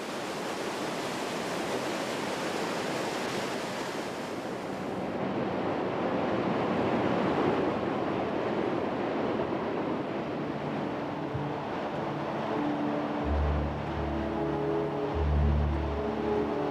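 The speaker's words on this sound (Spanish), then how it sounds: "En una caída sin fin, las aguas arrastran un tremendo caudal de 600 metros cúbicos por segundo." The Rhine Falls at Neuhausen, one of Europe's widest waterfalls, roars as a dense, continuous rush of heavy water, with low musical tones entering near the end.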